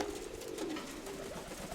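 Pigeons coo steadily in a low, rolling murmur, close by and continuous over a soft background hiss.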